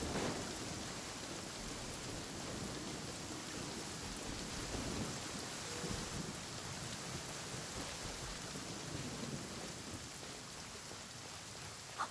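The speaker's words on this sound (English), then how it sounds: "It's raining again." Steady rain pours down with a soft hiss throughout, a low rumble of thunder underneath, faint and continuous with no talking, in the video game Genshin Impact.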